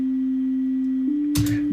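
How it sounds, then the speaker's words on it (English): A pure sine wave tone from the first partial of the Alchemy additive synthesizer holds steady and moderately loud for most of the stretch, briefly interrupted by a short noisy burst near the end. "this first partial is just a sine wave"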